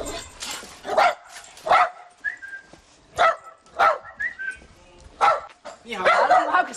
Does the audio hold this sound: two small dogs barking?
yes